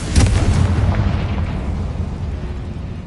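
Confringo fire spell blast in Hogwarts Legacy, a loud booming explosion that hits at once and then rumbles and fades over a few seconds.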